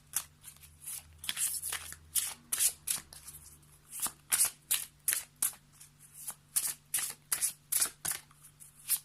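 Tarot oracle cards shuffled by hand in a steady run of crisp riffling bursts, close and fairly quiet, with no voice over them.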